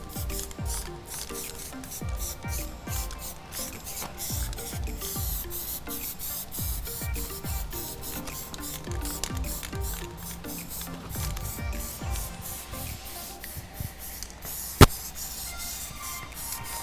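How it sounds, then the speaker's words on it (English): Spray paint hisses in steady misting bursts as it is applied to a portrait painting on canvas, the rapid short sprays repeating close and fairly loud, with one sharp click near the end. "It's amazing too what you can do with just like misting some spray paint to fill space, to fill that negative space up."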